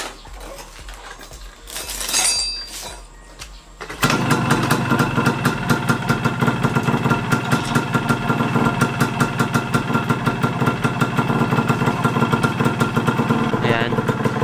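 A Yamaha DT125 motorcycle is kicked into life after a lighting and charging upgrade. Brief fumbling and a rising whir come first, then the engine starts at four seconds and settles into a loud, steady, rapid two-stroke idle with a faint metallic rattle.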